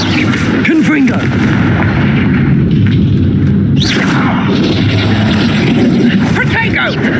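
Booming spell blasts from the Confringo fire spell in the video game Hogwarts Legacy, loud and continuous under a dense layer of combat noise and shouted voices.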